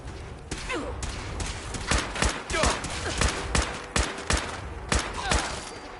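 Rapid video game gunfire, probably from Fallout 4, with repeated sharp shots and bursts spread evenly across several seconds, loud and close, with almost no talk.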